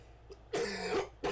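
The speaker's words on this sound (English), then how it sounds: "Had a bit of a cough back up" Two harsh coughs close to the mic, a long rough burst followed by a shorter one after a brief pause, with no talking.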